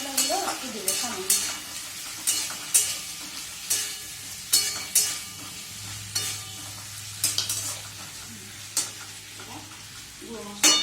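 Ground roasted chilli paste frying in a pan, stirred with a utensil, giving a soft steady sizzle broken by sharp, regularly spaced scrapes and knocks against the pan, close up and with no talking.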